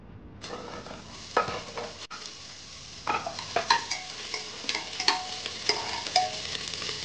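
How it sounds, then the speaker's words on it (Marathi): Chopped onion going into hot oil for a Marathi-style mutton tadka: a steady sizzle and fry with scattered clinks and stirring scrapes of a spoon against the pan, close by, with no talk. "आता ती फोडणी देते"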